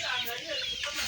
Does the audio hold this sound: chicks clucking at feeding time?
yes